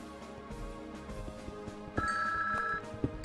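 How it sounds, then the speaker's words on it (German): A telephone rings over background music from a Minecraft session, a short electronic ringtone trill entering midway, moderately loud and alone without speech. "Und es klingt gerade das Telefon"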